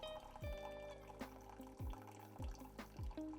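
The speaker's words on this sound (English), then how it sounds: "When that is finished brewing" A Keurig machine brews about six ounces of coffee, producing quiet, close trickling and dripping with intermittent gurgles and spurts of liquid falling into a cup.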